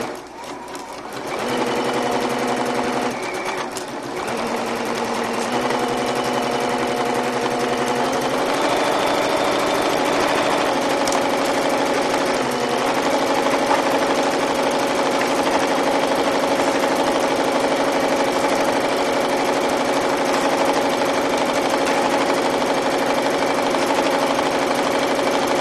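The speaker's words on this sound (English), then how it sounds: "now I'm going to go ahead and top stitch right on top of my marked line" A sewing machine top-stitching around a fabric circle casing runs in a steady, fast mechanical whir, pausing briefly near the start and then stitching continuously, close and loud.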